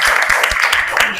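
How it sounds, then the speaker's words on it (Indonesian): A short burst of group clapping in a classroom, brisk and fairly loud, with overlapping hand claps packed close together. "Oke, tepuk tangan untuk kita semua."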